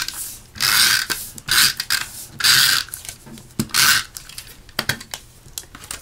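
A Stampin' Up Snail adhesive tape runner clicks and ratchets in several short bursts as it rolls tape onto paper for a card, close and crisp in a quiet room.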